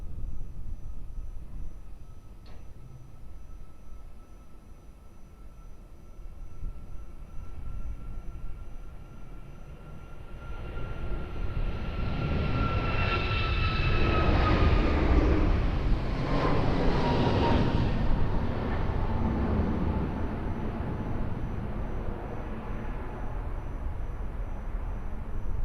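Jet airliner taking off from runway 02 at Lisbon Airport, a distant roar that swells to a loud broad rumble with a rising whine before holding steady as the aircraft climbs away.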